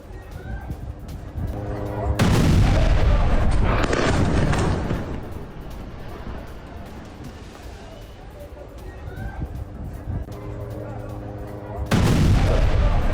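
Israeli bombardment striking a building in Deir al-Balah, central Gaza, in news footage: loud booming blasts at the start and again near the end, with a sustained rumbling roar of debris and noise between them.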